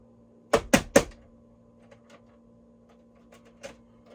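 A video game console with a faulty eject, its disc drive trying to engage: three quick mechanical clunks in a row, then faint clicks and one softer knock, all close and quiet.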